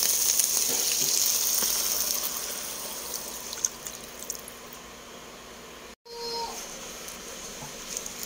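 Garlic, onion and ginger sautéing in a pan give a steady broadband sizzle, loudest at first and easing slightly, with a brief dropout near the end and no talk.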